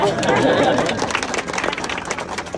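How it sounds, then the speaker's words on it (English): A tour group at the Tower of London breaks into a short round of applause, steady scattered clapping from a nearby crowd with some chatter mixed in. "round of applause for this lady"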